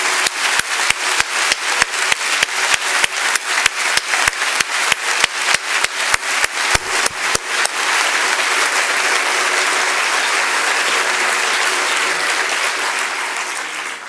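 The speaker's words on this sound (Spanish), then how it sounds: "Así que un gran aplauso." A crowd at a human rights annual report launch bursts into loud, sustained applause, starting with sharp rhythmic clapping that blends into a dense, steady roar of hands before slowly easing.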